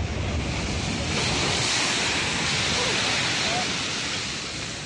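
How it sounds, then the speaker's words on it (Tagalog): Heavy storm-surge waves crash and roar continuously at Virac, Catanduanes, Philippines, as Super Typhoon Pepito approaches, a dense wall of surf noise with wind buffeting the microphone. "Walang humpayang hampas ng alon pagising kanina ng mga taga-Virac, Catanduanes."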